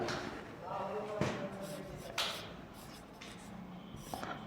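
Marker or chalk writing a short word on a classroom board during an algebra division lesson, faint scratchy strokes with a few sharp taps, mostly under a teacher's steady talk.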